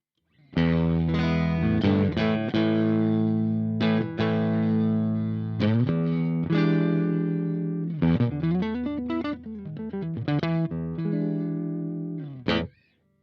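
An Egnater Rebel 30 tube amp head running 6V6 power tubes on its clean channel, an electric guitar playing chords and single-note runs with sliding bends, bright and sustained with a touch of chorus and reverb, alone and close.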